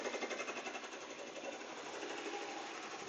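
A sewing machine stitching a rhinestone jacket runs in a steady, rapid mechanical drone with a fast rhythmic chatter, loud and close and unbroken throughout.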